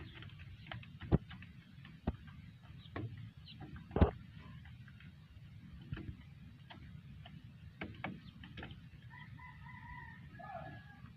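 A small backyard flock of chickens, including two-month-old birds, clucks quietly with a few sharp louder calls and scattered ticking noises, fairly close over low background noise.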